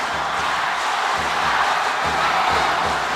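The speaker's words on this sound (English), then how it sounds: "And the LaSalle crowd goes crazy." A LaSalle crowd roars at a UAAP basketball finals game between UST and DLSU, a loud, sustained wash of cheering that fills the arena without a break.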